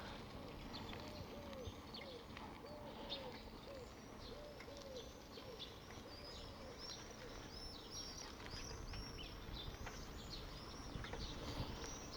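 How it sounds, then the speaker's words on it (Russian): Birds sing along a street in a military town in Bykhov. Pigeons coo repeatedly, and other birds chirp and trill in the distance, all fairly faint over a soft outdoor background. "Птицы уже вовсю поют"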